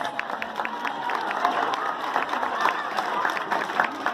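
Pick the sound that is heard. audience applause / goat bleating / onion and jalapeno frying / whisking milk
audience applause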